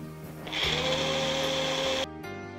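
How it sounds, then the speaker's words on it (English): A kitchen mixer grinder whirs loudly and close-up as it blends yogurt for a mutton dish, a steady high whine for about a second and a half before it cuts off abruptly. "अगर मैं मिक्सी में एक बार घुमा देती हूँ इसको"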